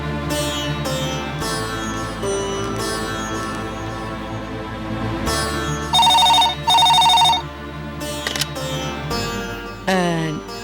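A telephone rings in repeated bursts over a dramatic musical score in a Tamil serial scene, the bright warbling rings clearly audible above the swelling music, with no talk.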